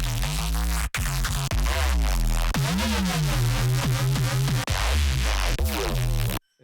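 A neuro bass patch built in Serum: loud, growling synth bass notes with shifting, wobbling harmonics, played in short rhythmic phrases with brief gaps, alone with no talk.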